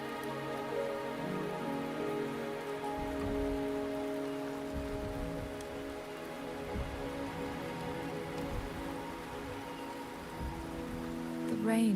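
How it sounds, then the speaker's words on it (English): Steady rain falls in the video game Wuthering Waves, a continuous patter on surfaces with a soft low rumble beneath, even and moderately loud throughout, with no voices. "The rain is subsiding, and the sky will soon clear."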